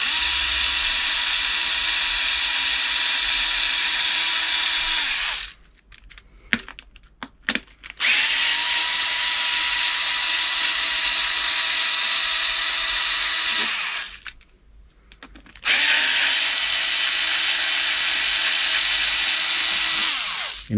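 Power tool undoing bolts on a Kaabo Mantis GT electric scooter, two long loud whirring bursts close by, separated by a short pause with small ratcheting clicks.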